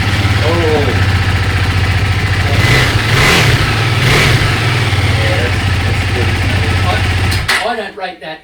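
KTM 390 Adventure motorcycle with an Akrapovic exhaust idling loudly and revving in a couple of throttle blips before cutting off, with voices talking over the engine.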